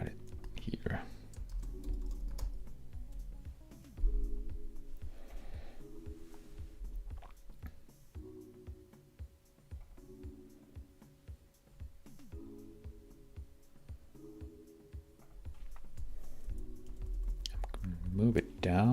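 Typing on a computer keyboard during a web design session, with steady close clicking keystrokes in short runs and a low hum underneath, while a voice talks quietly at the start and end.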